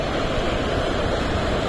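Steady wind rushes past on Candolim Beach in Goa at night, a dense, continuous roar blending with surf, close and loud with no voices.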